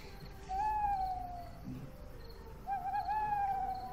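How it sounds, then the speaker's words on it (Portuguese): An owl gives two drawn-out, wavering hoots, one early and one near the end, faint and clear over quiet night ambience with crickets. "Coruja?"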